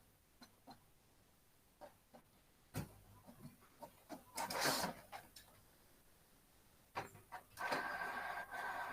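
An office printer runs intermittently in a classroom, with faint mechanical bursts and whirring passes that swell and fade several times over quiet room tone.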